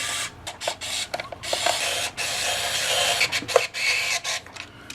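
Screws are run into a sticky i18 IGNITE system, producing close, loud bursts of mechanical whirring that start and stop repeatedly with short gaps between them.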